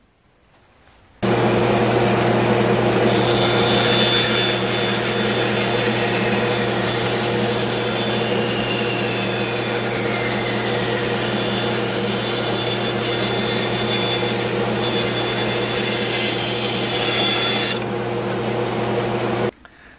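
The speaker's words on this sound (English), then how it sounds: "I'm just going to make a rough cut going along just to remove the excess material" A power saw makes a rough cut through wood for a push stick, a loud, sustained whining buzz that starts abruptly, runs steadily for about eighteen seconds and then cuts off.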